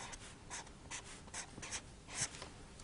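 Pen writing on paper during a binomial expansion maths lesson, a run of short scratchy strokes in irregular bursts, close and quiet, with no talking.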